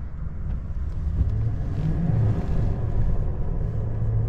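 A 2024 Chevrolet Silverado pickup crawls in low range with the ABS kicking on, giving a steady, close low drivetrain rumble with tire and wind noise that holds even throughout.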